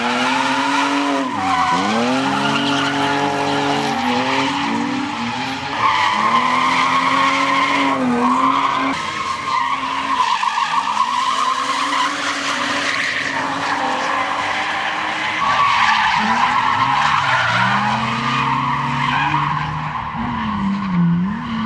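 Drift car sliding sideways on a rubbered-in race track, loud tire squeal and screech in long sweeping waves over a roaring, revving engine that rises and falls throughout.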